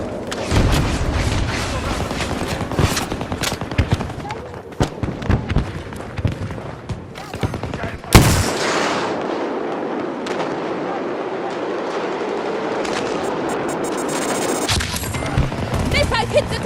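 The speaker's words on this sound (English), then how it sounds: "Missile hit the target!" Missile and rocket explosions in the Battlefield 2042 multiplayer Breakthrough mode: dense rumbling blasts and gunfire build up, followed by one sharp, heavy impact boom and a long roaring aftermath, with game voice lines mixed in.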